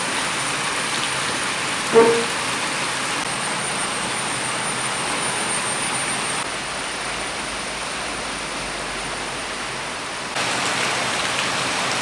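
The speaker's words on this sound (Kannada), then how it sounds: "ನೋಡಿ ಇವತ್ತು ಹೊರಗಡೆ ಮಳೆ ಬರ್ತಾ" Steady rain falls outside, a continuous even wash of broadband hiss lasting throughout with no voices and one brief soft knock early on.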